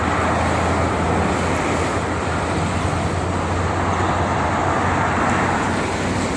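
A steady, dense roar of morning traffic on the Jakarta–Cikampek toll road in clear weather, continuous tire and engine wash from many passing vehicles with no talk.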